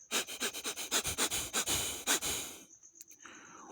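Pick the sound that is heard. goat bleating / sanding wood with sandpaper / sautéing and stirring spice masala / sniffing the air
sniffing the air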